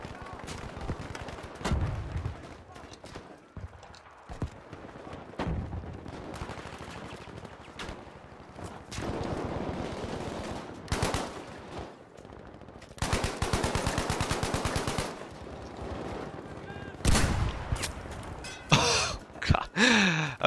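Rapid automatic gunfire from a weapon in the shooter game Battlefield 5, in several bursts of fast repeating shots with loud clustered volleys in the middle and near the end, mixed with game sound.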